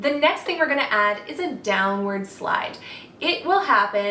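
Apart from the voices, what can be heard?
No distinct noise like a dog, phone or traffic.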